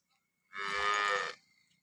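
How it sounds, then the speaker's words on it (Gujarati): Cow number seven on a dairy farm, recently calved, gives a single close, clear moo lasting under a second, with no other sound around it. "હવે ગાય હું તમને બતાવી દઉં સાતમા નંબરની"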